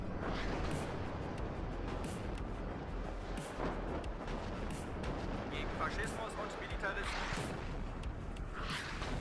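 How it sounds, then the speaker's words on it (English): Artillery barrage in the WARNO real-time strategy game, with several guns firing in dense, overlapping booms and rumbles that keep up steadily and loudly throughout. "There's like 8 artillery pieces firing at me."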